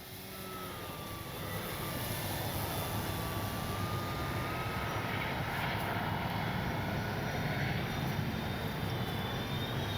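A Flightline P-38 1600mm RC model plane with retracts flies steadily overhead, its electric motors giving a continuous droning whine with a slowly shifting pitch, loud and sustained throughout with no talk.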